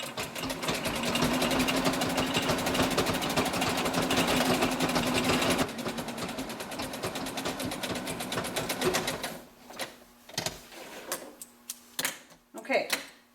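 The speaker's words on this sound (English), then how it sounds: "So just sew your edges together. I'm going to set this on a slightly narrower zigzag" A sewing machine runs a narrow zigzag stitch along the edges of homemade leggings, a fast rattling hum sustained for several seconds before slowing into short, uneven bursts, with a voice speaking over it.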